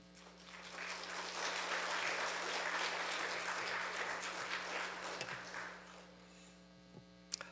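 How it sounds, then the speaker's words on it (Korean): A church congregation at a New Year special dawn prayer service applauds in a steady, moderately distant wash of clapping lasting several seconds, set over a constant electrical hum, fading out before near silence. "큰 박수로 환영해 주시면 감사하겠습니다"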